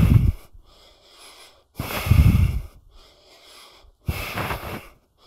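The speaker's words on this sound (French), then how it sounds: "Et inspire, expire." Several loud, close breaths during yoga exercise, strong inhales and exhales alternating with quieter pauses, about three bursts of heavy breathing in a row.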